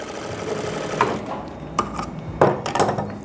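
A sewing machine runs a line of stitching right along the fabric margin of elastic-back trousers, a close, steady motor whir broken by a few sharp clicks and knocks of handling.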